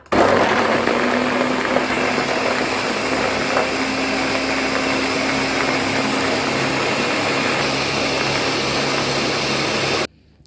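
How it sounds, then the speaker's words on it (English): A blender blending coconut and water runs continuously at a steady roar for about ten seconds, with churning liquid texture, then cuts off abruptly. "now we finish blend our coconut."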